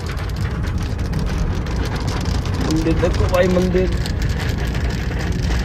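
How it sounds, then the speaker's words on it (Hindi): Steady rain drums on a Toyota Etios Liva petrol hatchback as it drives, blending with low road and engine rumble throughout, while people in the car talk briefly over it. "ऐसी होती है बारिश"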